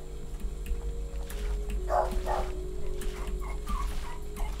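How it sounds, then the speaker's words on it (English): A dog barks in a garden, apparently at shadows: a few short barks near the middle, moderately close, over steady outdoor background noise. "he's barking at shadows at the moment"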